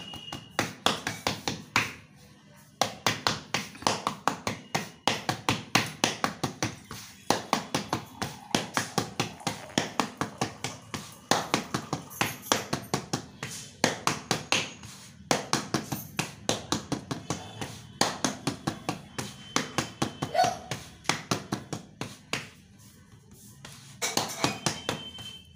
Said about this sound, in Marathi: एकसारखी थापून घ्यायची भाकरी.